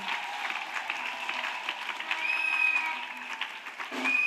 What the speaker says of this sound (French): acclamez vraiment parce que c'est la victoire